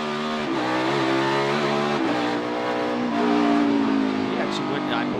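A NASCAR Cup Series car engine roars loudly through the esses at Sonoma Raceway during practice, holding a steady high-pitched note with brief shifts and pitch dips as it works through the curves.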